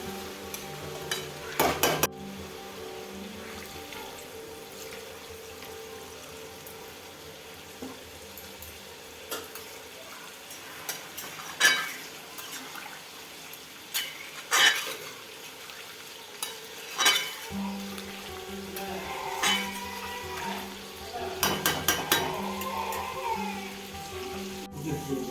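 Papaya curry cooking in a pan with water being added, soft sizzling under repeated scraping stirs and clinks of a spoon against the pot, quiet and close with bursts of activity.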